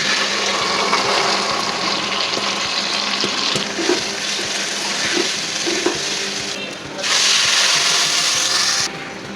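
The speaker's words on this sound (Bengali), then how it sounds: "এখন আমরা চালটা দিয়ে দেবো।" Rice is tipped into a pot of water with garlic, onion and cashew paste for a chicken mince pulao, making an ongoing sizzle and stirring clatter with sporadic scraping clicks and a brief burst of louder rushing near the end.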